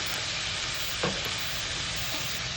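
Salt and turmeric being stirred into a frying pan for tomato paturi, a steady close sizzle of frying with a brief scrape of the spoon partway through.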